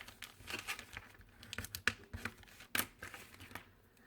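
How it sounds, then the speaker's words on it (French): Paper bags have their folds pressed flat by hand, making soft crinkling and rustling with short scraping strokes. It is quiet and close, with irregular bursts of paper noise and no voices. "On écrase bien les plis sur tous les sacs."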